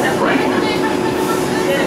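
Steady rumble and hiss of a New York City subway R142 train running on a Flatbush Avenue-bound trip, heard from on board as a continuous loud roar with no pauses.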